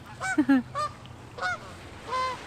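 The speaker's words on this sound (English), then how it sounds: "Oh, we have Canada geese again." Several Canada goose honks, a few close together then a couple more spaced out, fairly near over a low steady background rumble.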